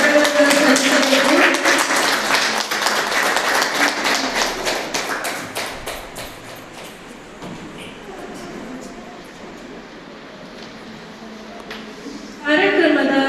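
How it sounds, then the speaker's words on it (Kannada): Audience applause at a Women's Day college event, dense clapping filling the hall at first, then thinning and fading to a murmur before a short fresh burst near the end. "ಎಲ್ಲರೂ ಚಪ್ಪಾಳೆ ಮೂಲಕ ಗೌರವವನ್ನು ಸಲ್ಲಿಸಬೇಕು."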